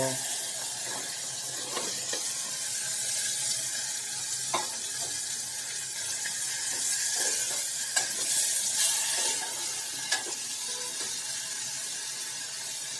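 Chopped green onions hit hot oil seasoned with asafoetida, giving a steady, close frying sizzle with occasional stirring clicks and scrapes throughout; no talking.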